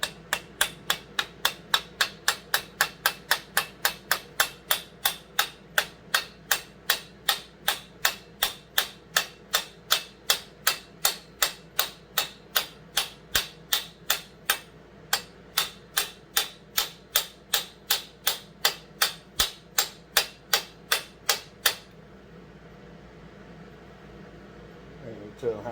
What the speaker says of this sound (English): We're going to take this piece of tubing here. We're going to tap on the end of it.